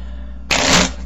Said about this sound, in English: You can just shuffle up the cards.